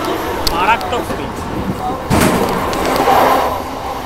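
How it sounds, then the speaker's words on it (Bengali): A Sealdah–Katwa local train overtaking at high speed near Kakinara station, a steady loud rumble of wheels and carriage with a sharp burst of passing noise midway, with people talking over it. "আমরা এখন দ্রুত গতিতে ওভারটেক করছি কাকিনাড়া স্টেশন"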